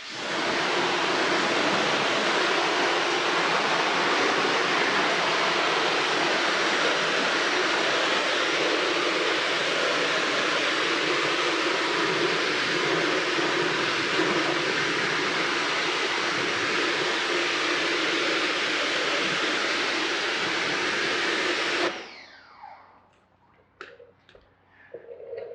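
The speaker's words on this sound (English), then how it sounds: "I got some gloves so I can pressure wash the wheel off thoroughly to begin." A pressure washer sprays a wheel with a loud, steady broadband hiss held close for about twenty-two seconds, then cuts off abruptly, leaving faint drips and small clatters.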